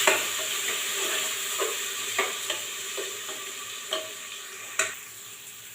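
A spoon stirs coarse wheat and dry coconut in a pan while making lapshi, giving a soft continuous scraping sizzle with light clicks and taps against the pan at irregular intervals.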